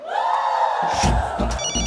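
A telephone rings with a sustained bright electronic tone in a comedy scene, loud and close, followed by a few thumps and a short burst of higher chiming.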